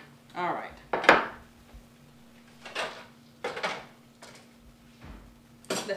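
A spoon clinks against dishes while shrimp lettuce wraps in sweet chile sauce are served, several separate sharp knocks and scrapes spread across a quiet kitchen, close and moderately loud with no talking.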